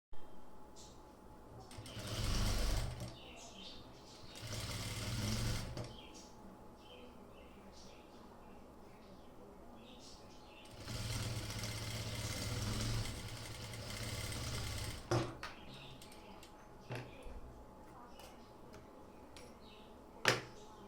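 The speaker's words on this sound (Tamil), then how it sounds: "இதே மாதிரி ஸ்டிச் பண்ணணும்" A sewing machine stitches a kurti sleeve in quiet, separate runs of whirring, each lasting a few seconds, with soft handling noises in between.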